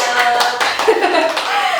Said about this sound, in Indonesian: Aku tepuk tangan.